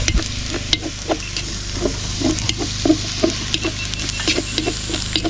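Garlic and onion sizzle steadily in a hot pan, with repeated scraping and tapping from a utensil stirring them. The frying hiss stays close and constant throughout.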